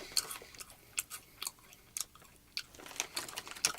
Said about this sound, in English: Now I'm going to chew it, see if there's a difference.